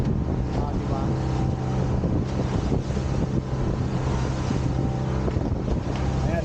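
Strong sea waves during a boat crossing to eat oysters: steady loud wash of water and wind buffeting the microphone under a constant low engine drone, continuous throughout.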